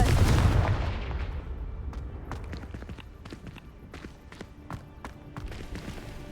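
Confringo blasting spell in Hogwarts Legacy, a loud booming explosion that fades into a crackling, scattered rumble with several sharp pops and thuds trailing off over a few seconds.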